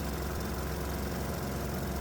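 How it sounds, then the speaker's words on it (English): A 196 cc 3 hp diesel engine running on regular diesel fuel, a steady, continuous close-up drone with even low-pitched rumble and no voices. "the engine is now running on regular diesel fuel"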